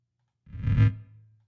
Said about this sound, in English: I don't like the reverb on it